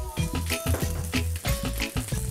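Beef strips cut as fajitas and seasoned with salt and pepper fry in a pan with a steady, loud sizzle and crackle, heard up close without talk, with occasional stirring scrapes.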